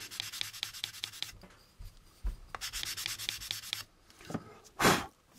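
Fine-grit sandpaper cross-sanding a plastic model kit part for an AMT U.S.S. Enterprise build, quick close rhythmic rubbing strokes in bursts, a pause, then a final louder scrape, no talking.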